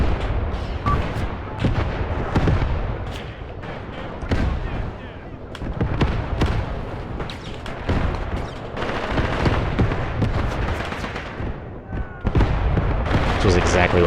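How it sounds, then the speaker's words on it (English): Artillery and small-arms fire in the war game Graviteam: Pivot Point form a constant barrage of booming impacts and crackling shots, layered and sustained, while a voice talks over the combat. "they are just getting lit up with that artillery"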